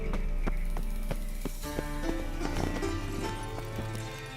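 Hooves beat in a quick, regular rhythm as a horse gallops in The Witcher 3, close and clear over a low droning music bed.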